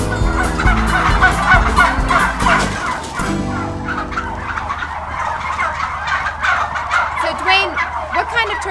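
Hybrid turkey hens gobble loudly in a barn on an organic farm, with several overlapping rapid gobbles up close, followed by scattered calls and softer chatter from the flock.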